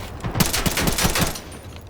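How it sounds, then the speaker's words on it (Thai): Rapid automatic rifle fire during a weapon test in the video game Delta Force, a quick burst of several close, loud shots in a steady rhythm lasting under two seconds. "คือจริงๆต้องเทสยิงรัวว่ะ"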